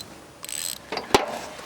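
A socket wrench ratchets in a few quick clicking bursts on a 1947 International KB3 truck, close and crisp against a quiet background.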